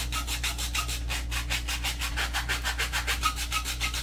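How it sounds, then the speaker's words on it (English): Steady rhythmic scraping of sandpaper rubbed back and forth by hand on a guitar pickup ring, about four strokes per second, close and continuous over a low constant hum. "And then just start sanding along, and it takes forever."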